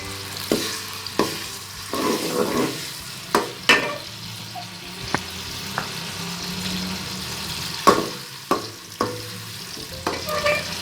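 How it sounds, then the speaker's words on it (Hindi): Chopped tomatoes fry in hot oil in a karahi for Hyderabadi chicken, a steady sizzle broken by repeated sharp knocks and scrapes of a stirring spoon against the pan. "ऑयल गरम हो गया। अब हम इसमें 2 अदद कटे हुए टमाटर डालेंगे।"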